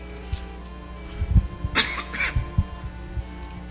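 A preacher coughs twice in quick, harsh bursts during a church anniversary service, with faint low thumps and room noise around them and no talking over the coughs.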